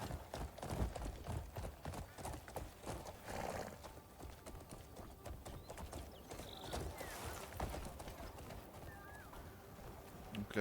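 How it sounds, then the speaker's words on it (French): Steady clip-clop of horse hooves trotting throughout in the video game Crimson Desert, with faint ambient chirps in the background. "Faut aller doucement en cheval"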